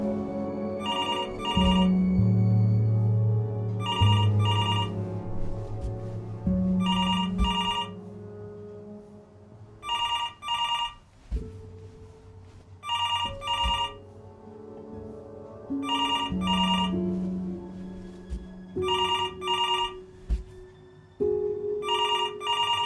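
An old-style telephone bell rings in repeated double bursts, about eight rings at regular intervals, sounding moderately close over a low sustained background drone with no talk.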